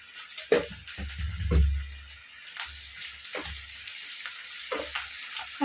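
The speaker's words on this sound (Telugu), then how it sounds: "మనం రొయ్యలు వేసేసుకున్నాం ఇప్పుడు ఈ ఆయిల్లోనే మంచి ఫ్రై అవుతాయి" Prawns frying in oil for a gongura prawn curry, a steady hissing sizzle close by with intermittent low thumps and stirring knocks against the pan.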